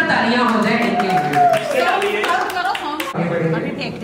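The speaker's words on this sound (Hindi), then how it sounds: "जोरदार तालियां हो जाए इनके लिए।" Enthusiastic clapping from a group at a surprise birthday party, a steady crackle of hands beating close by that runs under nearly continuous talking.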